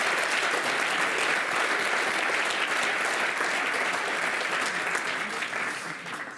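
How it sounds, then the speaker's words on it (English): Ceremony audience applauding Professor Kei Ito at a research fund awards event: thick, continuous clapping from many hands, steady and loud before tapering off at the very end. "Round of applause."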